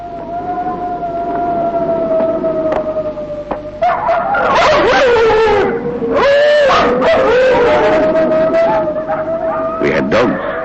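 Expedition sled dogs at an Antarctic hut bark, yip and howl together in a loud, close chorus, the howls rising and falling while sharp barks break in repeatedly.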